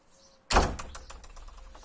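A door swings shut with a single solid thud, close and loud after near silence, while a TRX strap is anchored behind it with a small cardboard support, followed by a brief decaying rattle.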